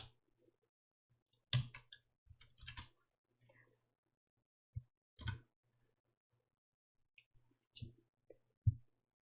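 Sparse computer keyboard key presses, including the Windows logo and Esc keys, heard as isolated clicks and short clusters of taps with quiet gaps between them, close and crisp in an otherwise silent room.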